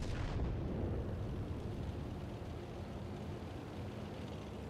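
Distant artillery fire in World of Tanks: a broad, sustained low rumble of a shell blast rolling on and slowly fading, no voices present.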